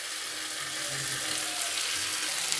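Soft potato balls with chopped chilli and spices frying in a pan while being stirred, a close, continuous crackling sizzle with light scraping, no talking.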